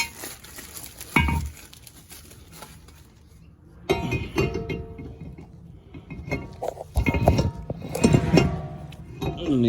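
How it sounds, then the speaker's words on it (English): Metal clinks and knocks as a new brake rotor, its hub coated with anti-seize, is slid onto a Jeep Chrysler wheel hub, with intermittent scraping and clanking bursts spread across the clip. "And let me just fit this rotor."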